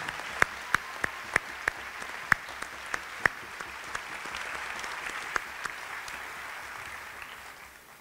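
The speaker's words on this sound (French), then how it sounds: "je vous demanderai de les applaudir chaleureusement" A sustained round of audience applause at a French university ceremony, sounding somewhat distant and soft, with a few sharper individual claps standing out before it gradually fades.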